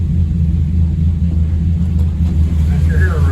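Mopar big block 400 V8 with a Weiand tunnel ram intake running on a test stand, a loud steady low rumbling idle throughout, with voices talking over it.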